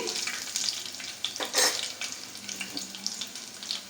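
Tempering spices frying in hot oil for pepper rasam give off a dense, close crackling sizzle with a brief louder burst of spitting in the middle, steady to the end.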